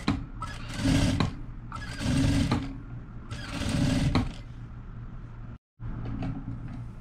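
Sewing machine stitching a pyjama collar, running in three steady bursts of a few seconds each with short pauses, then a brief silence before it resumes, close and fairly loud.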